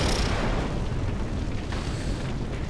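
A loud explosion rumbles in the video game Crysis, a heavy, roaring blast that stays dense and sustained across the whole moment rather than a single sharp crack.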